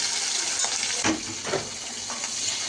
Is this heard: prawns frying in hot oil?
yes